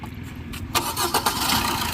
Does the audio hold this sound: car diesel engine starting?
yes